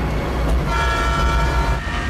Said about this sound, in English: Bond must catch a train in his Porsche Cayenne Turbo.